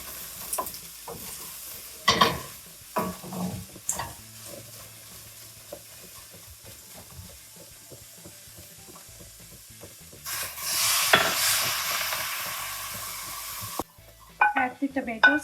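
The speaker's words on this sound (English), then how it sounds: "This is going to create more steam and make this vegetable cook faster" Asparagus and potato pieces cooking in a pan, with scattered clinks and scrapes of stirring, then a loud burst of sizzling and steam rising for a few seconds before trailing off into more clatter.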